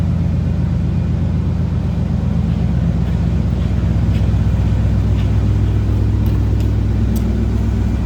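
A 1985 Buick Riviera engine idles steadily, a continuous low rumble heard up close with a faint background hiss and no speech.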